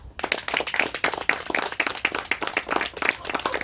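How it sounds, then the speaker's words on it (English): Audience clapping at a puppet show of Alice in Wonderland at a puppet museum, a lively round of individual claps close by, steady and uneven throughout with no talking. "I want everybody to give me a big round of applause for Alice and the Mad Hatter."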